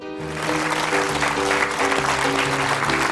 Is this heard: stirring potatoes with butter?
no